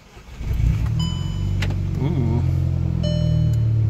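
A modified Volkswagen GTI engine starts up close by, a short crank followed by a loud, droning idle. Faint chimes sound from the car, and a person briefly exclaims over it.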